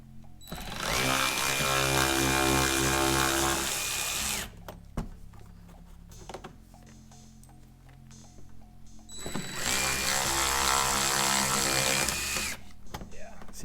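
A power tool whirs loudly while loosening a bolt on a Camaro ASC rock guard, two long sustained bursts separated by a quieter pause with faint clicks and handling noise.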